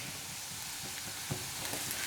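Dark soy sauce poured over vegetable fried rice frying in a hot pan gives a steady close sizzling hiss, with a couple of soft stirring clicks.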